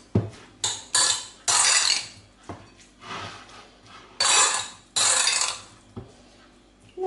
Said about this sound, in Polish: I farsz mieszamy.